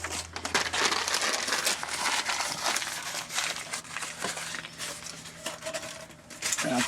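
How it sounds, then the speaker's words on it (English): Sheets of paper are crumpled and crinkled by hand to start a wood-fired pizza oven, a close, busy run of rustling crackles with a few soft bumps. "So I'm going to just wrinkle up some paper."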